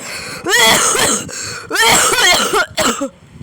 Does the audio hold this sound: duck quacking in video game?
no